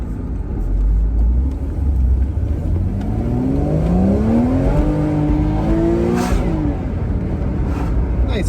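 A 2.9-litre flat-six in an open-top Porsche Boxster pulls hard, its engine note climbing steadily through the revs. It sounds loud and close from inside the car, with a shift partway and renewed rising pitch.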